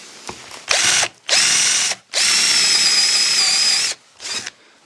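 A Kimo hammer drill on its screw setting, whirring in four separate bursts with a steady high motor whine, each spin-up and stop clearly audible and loud, with short quiet gaps between runs.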